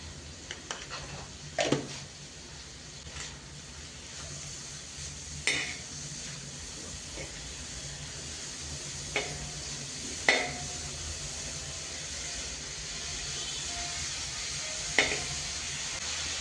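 Cabbage, carrot and beans stir-frying in a pan at home, a steady broad sizzle running throughout with occasional sharp clinks and scrapes of a spatula against the metal.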